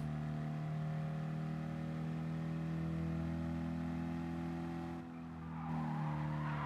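In a racing video game, a car drifts with a sustained tire squeal over a steady, droning engine note. The sound holds evenly and dips briefly near the end.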